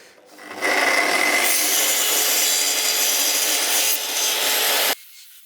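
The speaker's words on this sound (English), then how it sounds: "I've got to bring the saw all the way down." A saw cuts through wood for a garden trellis with a steady, loud rasping that runs continuously for about four seconds, then stops abruptly.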